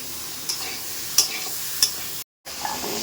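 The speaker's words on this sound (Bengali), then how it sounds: "এখানে ঝিঙে আর আলু দিয়ে ভালো করে মশলাপাতি দিয়ে কষিয়ে নিচ্ছে" Ridge gourd and potato sautéing with spices in a home-kitchen pan, a constant close sizzle with three crisp spatula scrapes at regular intervals and a brief cut to silence near the end, no voices.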